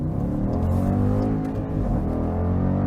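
Dodge Durango SRT with a 6.4L HEMI V8, engine and exhaust rumbling deep and loud close by, a heavy low burbling drone with no talking.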